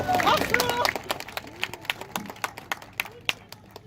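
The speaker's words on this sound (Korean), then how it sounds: "이쪽도 박수 좀 쳐주세요." Audience clapping at a Gyeonggi Province Farmers' Day ceremony, scattered claps that start under a man's speech and thin into sparse, separate hand claps as the voice stops.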